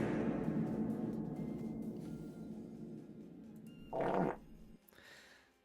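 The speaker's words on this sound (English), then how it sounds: "You guys got your fart sounds." Fart sound effects played through a Discord voice call: a long, low, rumbling blast that fades out, then a short, sharper burst near the end, fairly loud and alone.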